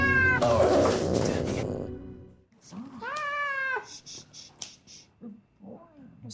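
A fluffy white cat at the vet lets out a long, strained yowl, then a run of shorter, rising meows and cries, loud and close, with some scuffling noise alongside.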